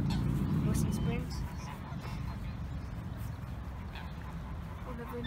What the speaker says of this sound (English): There's lots of ducks here, as you can see.